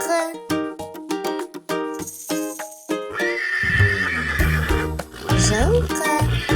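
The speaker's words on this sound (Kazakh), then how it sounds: "Бұл жылқы." A horse neighs loudly and close, a long shrill whinny, following a stretch of hoof clip-clops and plucked musical notes, with background music continuing underneath.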